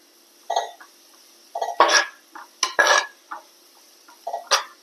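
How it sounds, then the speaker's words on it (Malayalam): A cooking stove shakes and rattles while a curry cooks on it. It makes short clattering taps in small irregular bursts with quiet gaps between them, close by and fairly loud. "ഈ അടുപ്പിങ്ങനെ ഇതില് പാചകം ചെയ്യുമ്പോൾ ഈ അടുപ്പിടയ്ക്ക് കുലുങ്ങും ടെക് ടെക് പറഞ്ഞിട്ട് അതാണ് സൗണ്ട് കേൾക്കണത്"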